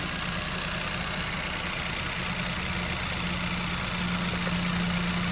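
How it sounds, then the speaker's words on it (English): A Kia Sportage 1.6 GDi petrol engine idles steadily at close range, a constant low hum with a very mild, fast ticking from the direct injection injectors running through it, no voices. "And that very mild ticking is the direct injection injectors."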